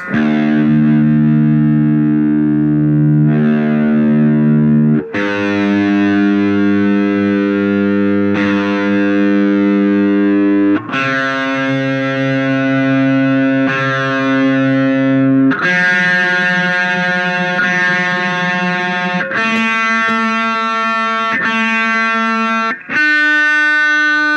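Heavily distorted electric guitar in a low tuning, playing long ringing chords and notes that step through several sustained positions, loud and alone.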